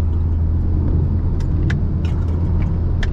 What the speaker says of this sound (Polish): Fajnie ten samochód jeździ, naprawdę.